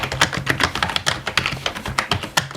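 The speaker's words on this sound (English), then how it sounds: "Here's a demonstration of what that keyboard typing sound sounds like." Typing on an ASUS TUF Gaming K1 RGB wired gaming keyboard produces a quick, steady run of close, crisp key clacks with no talking.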